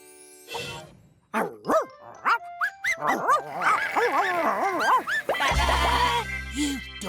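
A cartoon dog barks in a series of short bright yips and bow-wows, mixed with sheep-like bleats and a playful music sting near the end.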